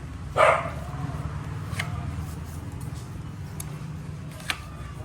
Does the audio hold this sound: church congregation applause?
no